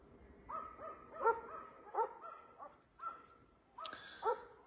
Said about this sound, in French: Et petit chien, arrête.